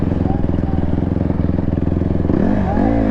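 A dirt bike engine idles in a close, loud, rapid throbbing pulse, then revs up sharply near the end with rising and falling pitch.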